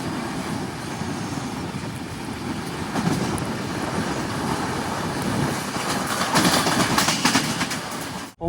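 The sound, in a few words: Mandovi Express train running, arriving at Karmali station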